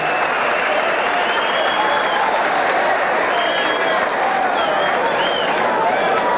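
A packed crowd applauds at the New England Golden Gloves boxing tournament in Lowell, a continuous dense wash of clapping and crowd noise with a hint of cheering throughout.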